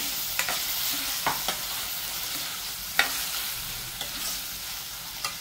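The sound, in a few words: sautéing and stirring in a pan for a spinach dish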